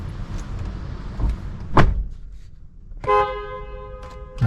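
Pia two-tone car horn fitted to a Toyota Innova diesel, sounding a short close blast after a door thud and some background rumble, with a brief second toot at the end.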